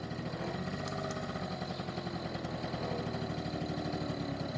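Honda NU50 moped engine idling steadily, a low rapid putter holding an even level close by with no talking.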